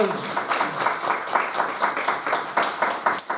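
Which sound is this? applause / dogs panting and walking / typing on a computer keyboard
applause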